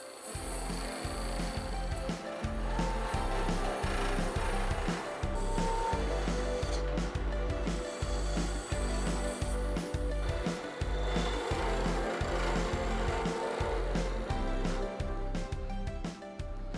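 A wood lathe whirs loudly and continuously while a tool scrapes and shapes a spinning pine cone and resin handle in rhythmic passes.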